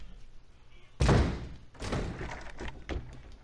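A door in the Resident Evil video game thuds heavily shut with a loud, resonant slam, followed by a softer second knock and scattered lighter taps fading out.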